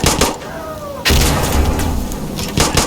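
A frag grenade detonates in Insurgency Sandstorm with a sudden loud boom that cuts in after a quieter opening, followed by a rumbling tail and scattered gunfire cracks, close to the listener.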